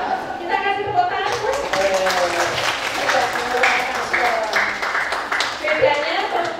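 An audience gives a round of applause, moderate clapping that runs throughout while a voice speaks over it.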